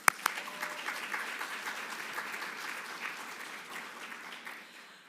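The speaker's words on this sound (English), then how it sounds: "I think we should give her another clap." Applause from the audience at a women's health conference after a presenter is thanked, opening with a couple of sharp claps and then swelling into sustained, moderately loud clapping that eases off slightly toward the end.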